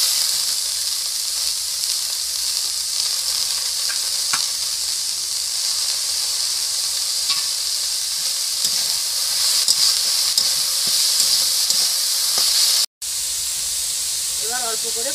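Gima greens hit a hot pan in which potatoes have been fried, producing a loud, steady hiss and sizzle that runs almost unbroken with faint clatter underneath.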